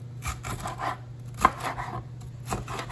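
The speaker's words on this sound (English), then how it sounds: "I'm gonna cut me some red peppers up." A knife chops red peppers on a cutting board in a home kitchen, a handful of close, crisp cuts spaced irregularly, with a soft background hum and no speech.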